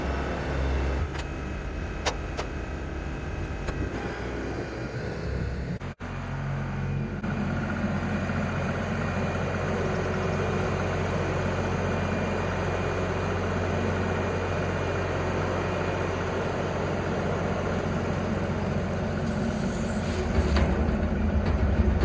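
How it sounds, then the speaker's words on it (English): A tractor engine runs and labors while lifting and dumping a hopper filled with scrap, a steady loud diesel drone with clanks early on, a brief dropout, and a rise in load near the end. "see if the tractor can handle the weight to dump it all out"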